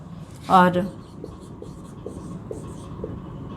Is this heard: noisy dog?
no